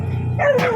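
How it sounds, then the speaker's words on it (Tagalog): A dog gives a single close, loud bark with a yelping, whiny edge, sounded outdoors near a sidecar. "Di sa makadaan, kasi may mga aso rin doon."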